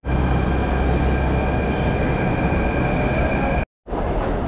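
A Delhi Metro train at Lal Qila station on the Purple Line gives a loud, steady rumble with a sustained tonal whine, then a brief dropout before the roar resumes.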